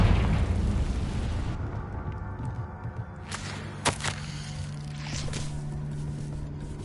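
A Confringo blasting spell in Hogwarts Legacy: a booming explosive burst opens amid a dense rumble, followed by a few sharper pops and thuds fading into a lingering low roar.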